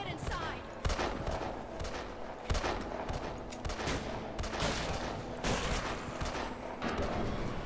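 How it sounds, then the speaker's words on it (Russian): Gunfire in the video game Deadlight, repeated sharp shots and bursts scattered through a dense, noisy game mix, fairly close and loud. "тут стреляют вообще-то"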